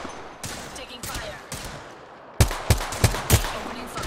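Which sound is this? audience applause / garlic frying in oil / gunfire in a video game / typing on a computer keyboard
gunfire in a video game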